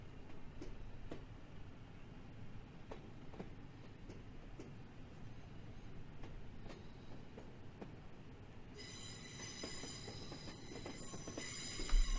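A Class 37 diesel locomotive in Train Sim World runs at a station platform, with a steady low rumble, scattered wheel clicks and squeals, and a high metallic tone joining near the end.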